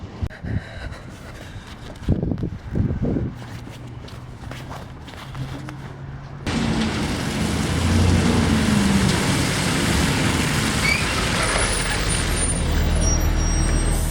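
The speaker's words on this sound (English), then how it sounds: "Oh great, I see the bus right on time." A city bus arrives at a college campus stop, its engine rumbling up close and an air brake hissing out. Footsteps hurry along beforehand.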